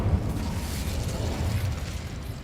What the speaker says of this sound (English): Incendio! Set that on fire.